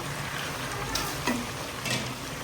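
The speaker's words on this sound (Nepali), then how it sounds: "हाम्रो यहाँ घिउ पनि तातो तातो यहाँ खरिँदैछ" Ghee sizzling as it heats in a pan over a steady low crackle and hiss, with a few brief sharper spits rising out of the continuous frying noise.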